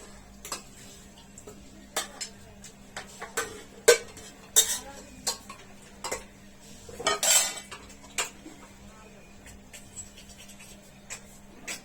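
Meat is mixed with turmeric in a metal pot, giving scattered close clinks and scrapes of a spoon against the pot at an uneven rhythm, with a louder burst of rattling partway through.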